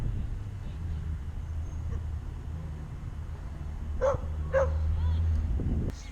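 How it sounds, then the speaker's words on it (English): Dogs bark a few times in the background around the middle of the clip, moderately distant over steady low ambient noise, with a voice briefly heard near the end. "Bloody dogs."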